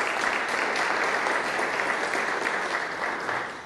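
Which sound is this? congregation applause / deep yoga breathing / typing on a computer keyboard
congregation applause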